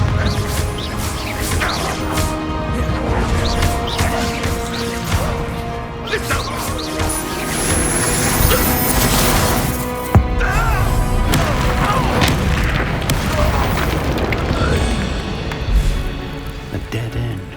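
Spell blasts and explosions in the Hogwarts Legacy video game boss fight, with repeated booms, crashes and whooshes throughout, loud and dense over game music, with voices speaking at times.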